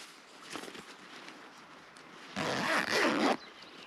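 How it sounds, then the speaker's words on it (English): A thermal liner is unzipped from an Oxford Montreal 3.0 motorcycle jacket, with light fabric rustling first, then a loud close zipper pull in two quick bursts. "To remove the thermal liner, like most jackets, it's just zipped in."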